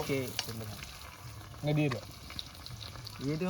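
Chicken meat frying with half-cooked onions in a pan gives a soft, steady sizzle heard under a person's speech, with occasional stirring clinks and scrapes.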